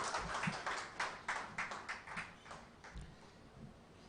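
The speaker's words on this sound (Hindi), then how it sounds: "जोरदार तालियां" An audience claps at a live poetry and teaching event, with scattered, fairly faint hand claps and taps forming a loose, uneven rhythm and no talking over them.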